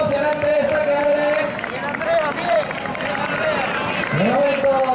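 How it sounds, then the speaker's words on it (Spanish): Crowd at a girls' mile race in Gijón cheering and clapping along the track, with a loud commentator's voice running over the steady roar of the spectators. "fuerte aplauso por ahí, vamos a animar"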